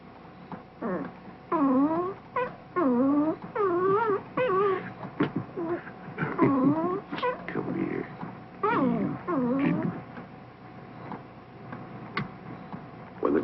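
A newborn puppy whimpers and cries in a long run of high, rising-and-falling squeals, close and fairly loud, coming in short repeated bursts with brief pauses, alone without any talking.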